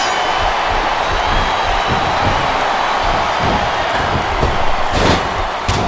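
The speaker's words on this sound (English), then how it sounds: "Wow, listen to that chant, Taz." A large arena crowd in the WWE SmackDown vs RAW 2007 wrestling video game roars and chants continuously, a dense, loud wash of voices with a few thuds and slams near the end.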